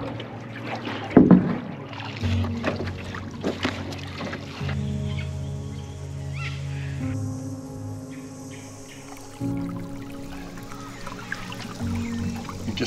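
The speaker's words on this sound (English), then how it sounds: "Push off and glide out onto the river." Canoe pushing off and gliding out onto a river, soft paddle and water sounds with gentle trickles and faint outdoor insect chirps in a calm, quiet setting.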